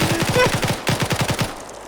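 Rapid automatic gunfire in a competitive video game round, two close bursts of evenly spaced shots, loud and punchy, trailing into quiet.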